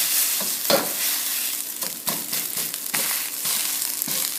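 Fried rice made from cooked rice sizzles loudly in a hot pan while being stirred and chopped, with steady frying hiss broken by repeated scraping stir strokes, close and with no talking.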